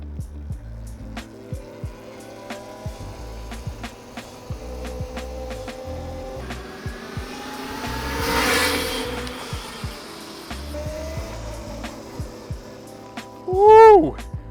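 A King Goat electric bike with selectable eco, normal and max torque modes pulls away under power, its electric drive giving a steady humming whine with a louder whoosh midway and a brief sharp chirp near the end.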